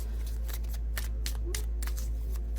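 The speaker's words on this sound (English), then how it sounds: "We'll shuffle just to see if there are any other messages." A deck of tarot cards is shuffled in a series of quick, papery riffling bursts at a steady rhythm, close and fairly quiet over a low constant hum.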